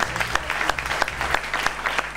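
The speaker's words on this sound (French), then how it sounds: "On l'applaudit bien sûr." An audience applauds a marine scientist being honoured on stage, with close, fairly loud clapping from a modest crowd that runs steadily across the moment, distinct individual claps standing out.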